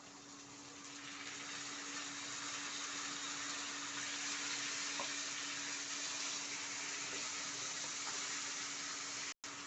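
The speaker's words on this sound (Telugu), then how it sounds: "ఆనియన్ కూడా వేగింది వేగింది కాబట్టి నేను టమాటా వేసేస్తున్నా" Tomatoes go into a pan of fried onions for an okra curry, giving an even, moderately quiet sizzle and frying hiss that holds steady throughout with no talking.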